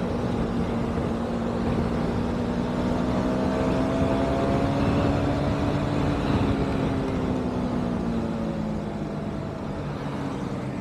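A motorcycle rides along a hilly mountain road, its engine holding a steady drone as the pitch slowly rises and falls, with constant wind rush and no talk.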